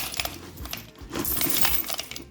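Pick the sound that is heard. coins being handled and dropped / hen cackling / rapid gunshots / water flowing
coins being handled and dropped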